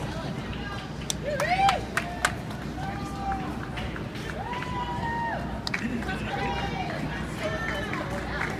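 Crowd on Market Street claps and cheers as two participants finish a 23-story descent, a steady outdoor hubbub with scattered claps and whistles, plus a voice speaking over it.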